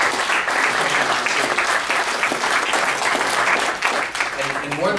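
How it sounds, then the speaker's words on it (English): An indoor audience applauds firefighters, a dense, sustained round of clapping from a crowd that stays loud for the whole stretch and thins slightly near the end, with a few voices mixed in. "I wish everybody would just turn around and give them a big round of applause"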